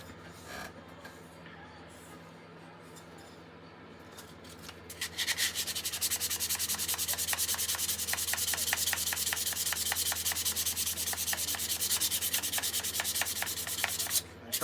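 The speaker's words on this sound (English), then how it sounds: "I do just run the sandpaper just across the edge of the knife, just to take that sharpness away" Sandpaper is rubbed across the edge of a hardwood letter opener, first in quieter light passes, then in a loud, fast, rhythmic back-and-forth scratching close by, with no talk.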